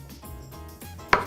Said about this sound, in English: the first thing we're gonna do is chop up the garlic,